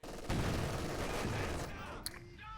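MG42 machine gun fire in Company of Heroes 2 rattles as a dense, sustained burst of rapid shots, mixed with other battlefield gunfire and explosions, under a commentator's voice.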